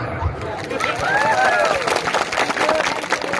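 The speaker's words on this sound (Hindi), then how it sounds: "अब आप लोग ताली मारो" A crowd at a gathering claps in a thick, continuous wash of applause, loud and close, with voices and chatter under and over it.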